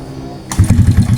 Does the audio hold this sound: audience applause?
no